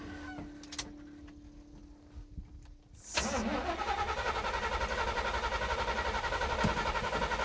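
An old square-body tow truck sits quietly with a faint tone, then its engine cranks loudly and keeps turning over in a fast, steady rhythm up close, with no voices.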